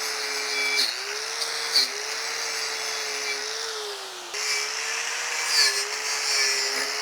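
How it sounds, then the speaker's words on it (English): Power tool spinning a wire brush against a brake rotor during a car restoration, a steady droning whine with slight pitch dips as the brush bites the metal, close and loud, briefly easing mid-run before resuming. "now it's going to get the wire brush treatment. I'm going to use a power tool"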